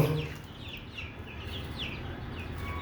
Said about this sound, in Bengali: এই হচ্ছে আমার সবগুলা মুরগি